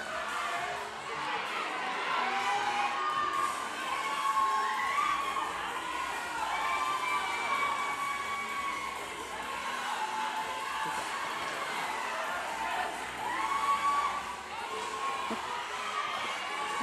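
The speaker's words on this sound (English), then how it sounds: "The crowd is cheering on Andrea Glass as she finishes up those full burpees." A crowd cheers and shouts steadily as a female athlete finishes full burpees at the Burn Boot Camp Athlete Games 2025, a fitness competition, with the noise sustained throughout and voices mixed in.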